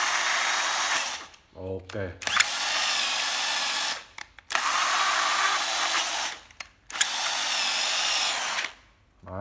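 A 12V cordless drill whirs in three sustained high-pitched runs separated by brief pauses and clicks, close by, with a short spoken word in one gap.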